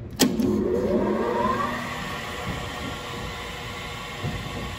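A New Holland K23 spin dryer starts with a thump, then its motor whine rises as the drum spins up and settles into a quiet, steady hum.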